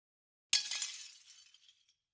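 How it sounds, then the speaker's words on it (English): A glass-breaking sound effect played when an NES emulator closes: a single sharp shattering crash after a silent moment, then tinkling shards fading out over about a second and a half. "I closed out of the emulator, so it does the glass breaking sound."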